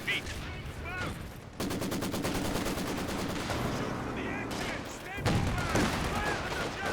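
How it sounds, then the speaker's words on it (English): A Greyhound armored car in Company of Heroes 2 lets off a long, rapid stream of automatic fire. The bursts sound close and dense, with faint chirps and other battle noise mixed in around them. "Greyhound firing away."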